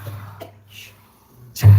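A short, breathy burst bursts out sharply at the end, like a cough, after a couple of softer exhaled puffs.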